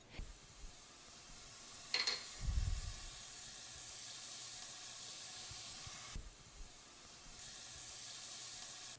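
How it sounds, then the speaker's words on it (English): Onion, garlic and rosemary sizzle in oil in a pan for chicken with chickpeas and tomatoes, a soft continuous hiss with a brief clatter and bubbling burst early on. "put in the onion and the garlic and the rosemary"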